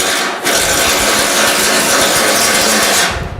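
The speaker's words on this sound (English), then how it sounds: "now I'm cutting into the base metal on each side of the weld" An angle grinder cuts down welds on a thin gauge sheet metal repair, biting into the base metal beside each weld. A loud, harsh, continuous rasping grind runs unbroken for about three seconds, starting and stopping abruptly, with no voices.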